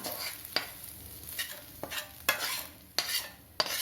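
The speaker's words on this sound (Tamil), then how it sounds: "இப்போ மாவில் வதக்கின வெங்காயம் சேர்த்துக்கலாம்" Sautéed onion is stirred into thick dal adai batter in a bowl, with a spoon scraping in regular strokes about every half second against a soft background hiss, close and with no talking.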